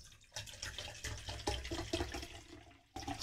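Soda water is poured into a glass, a close, fizzy splashing and gurgling stream with crackling bubbles that runs briefly, pauses, then resumes.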